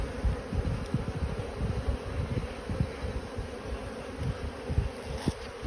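Honey bees swarming around a strong hive during a March inspection in Australia, a dense close buzzing hum with individual bees droning past the microphone, steady throughout with no talk.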